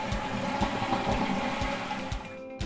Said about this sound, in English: Once you have a good flush, you're finished.